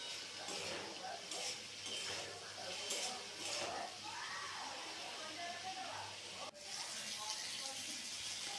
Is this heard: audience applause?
no